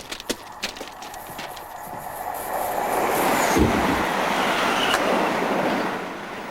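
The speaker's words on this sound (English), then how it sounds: "Then after the train had passed" A British Railways train crosses a bridge. Scattered clacks give way to a rising rumble that swells into a loud, sustained roar as the carriages pass close by.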